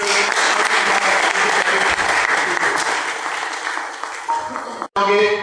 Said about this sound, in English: please give them a big applause to this